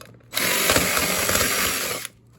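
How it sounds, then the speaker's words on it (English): A power drill with a bit boring holes through a stack of plastic plant containers, one loud continuous whir lasting about two seconds, close up, starting and stopping abruptly. "Get a drill. What size drill bit doesn't matter, and drill you some holes"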